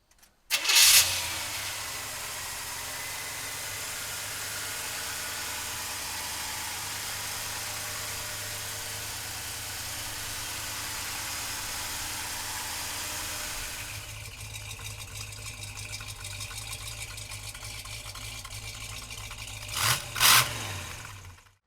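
A 1970 Chevrolet Chevelle V8 cranks and catches, then settles into a steady rumbling idle for most of the run, its tone shifting partway through before a couple of brief sharp blips near the end.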